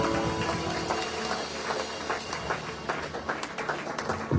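A church congregation applauds and cheers for Christ during a French-language sermon, a dense, steady wash of many hands clapping throughout with crowd voices mixed in.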